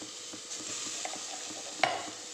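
Soft frying sizzle of tomatoes in a pan for mutton kurma, with light stirring scrapes and a sharp clink near the end, quiet and close.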